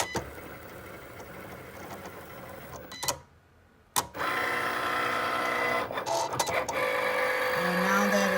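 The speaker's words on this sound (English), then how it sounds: "you can see the scoring tools making the scoring lines on the poster board" A cutting machine's scoring tools crease lines into poster board for bath bomb packaging, producing a mechanical whirring and clicking that stops for about a second midway, then resumes with shifting motor tones.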